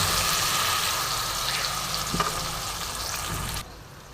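Ground spice paste frying in a hot wok, a loud steady sizzle that fades slightly and then drops abruptly near the end, with no talk.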